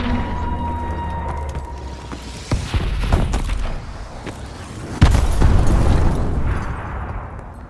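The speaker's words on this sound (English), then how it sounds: "Enemy missile strikes!" Heavy blasts from an enemy missile strike in a video game, several deep booms and crashes rolling one after another, ending in a large loud impact with rumbling debris, no speech.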